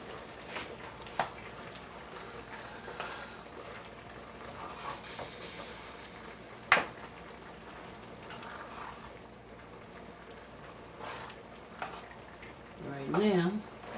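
Food frying in a pan with butter makes a soft, steady sizzle and hiss at moderate distance, with occasional clicks and clatters of cookware and a brief voice near the end.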